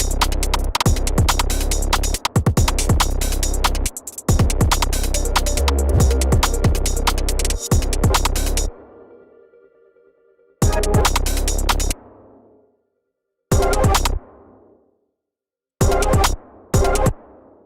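An atmospheric breakbeat track with a reverse reverb sample plays in stop-start bursts, dense beats cutting to silence and smeared, fading tails between hits.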